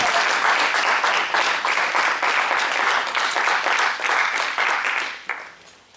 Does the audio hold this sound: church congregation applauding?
yes